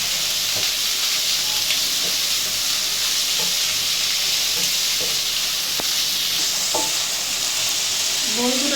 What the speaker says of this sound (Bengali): আমি এইভাবে সব লাউয়ের টুকরোগুলো কড়াইয়ের মধ্যে দিয়ে দিলাম।